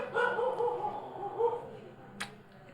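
A dog barks close by, a few short tonal barks running together over about a second and a half, followed by a sharp click and a quiet background.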